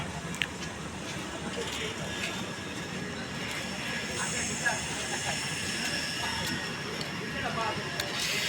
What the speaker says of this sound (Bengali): আইলাখান্দির ট্রেন দেখতে পাচ্ছেন